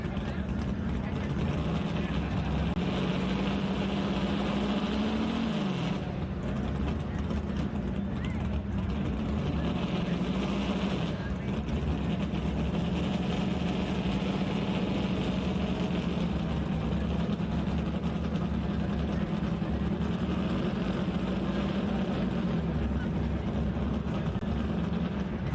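A single-engine modified pulling tractor idles at a pulling event in Beloit, Ohio, a steady low engine rumble with a wavering pitch, heard under continuous loud announcer talk and crowd noise.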